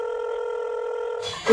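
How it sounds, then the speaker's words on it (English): A telephone rings in a scene from a gospel drama film: a steady electronic ring tone holds for about a second before being cut off by a burst of noise. "Yeah, your phone is ringing."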